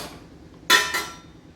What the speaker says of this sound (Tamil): ஒரு கொதி வந்துருச்சு. இப்போ குக்கர் மூடி போட்டுருங்க.